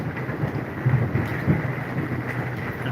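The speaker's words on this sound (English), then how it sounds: "That's just thunder and rain." A thunderstorm heard from inside a bus, with steady rain pattering on the roof and low rumbles of thunder rolling underneath.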